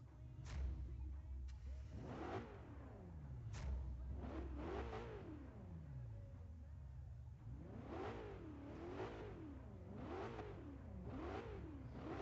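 A car engine in Forza Horizon 3 revving repeatedly through rising and falling pitch sweeps, each climb and drop clearly audible, loud and continuous over about twelve seconds.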